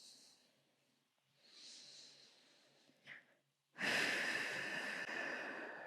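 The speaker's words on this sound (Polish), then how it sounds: "Dodaj spokojny oddech." Calm, deliberate breathing by a pregnant woman exercising on a pregnancy ball: a soft inhale, a quiet pause with a brief sniff, then a long, loud, close exhale that fills the last seconds.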